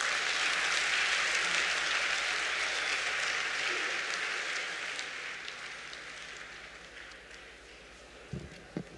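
Audience applause for a business session speaker, a dense sustained clapping that fills the hall, then gradually thins and fades toward the end, with a couple of stray claps and small bumps near the close.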